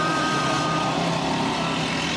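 A small go-kart motor screams at high revs in a backyard kart race, a dense buzzing whine held steady and loud throughout.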